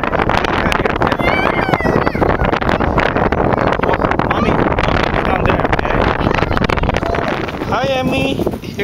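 Loud, buffeting wind roars across the microphone at a park throughout, with faint voices breaking through now and then.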